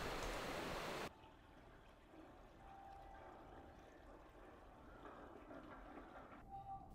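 A waterfall in the Nasu Highlands rushes steadily, a soft broadband wash of falling water heard from some distance, briefly louder at the start and otherwise continuous, with no talk.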